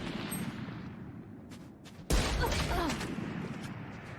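Pistol gunfire in Valorant during a pro match, a sudden loud shot burst about midway followed by sustained sharp noise, after a few quieter distant cracks amid game ambience.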